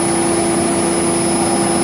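A 1 hp electric motor turning a fan at 57 Hz gives a loud, steady hum with a constant tonal whine and broadband rushing air, unchanging throughout.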